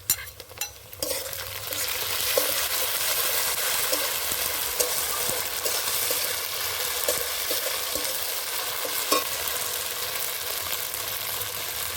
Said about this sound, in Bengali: এখন দিয়ে দেব আদা বাটা রসুন বাটা কাঁচা লঙ্কা বাটা